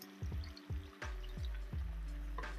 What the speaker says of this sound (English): I'm going to add about this much water to it